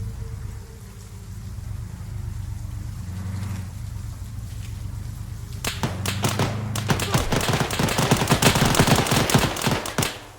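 Gunfire in the Arma 3 video game: a low vehicle-like rumble at first, then a rapid barrage of loud, sharp shots in overlapping bursts that keeps going to the end.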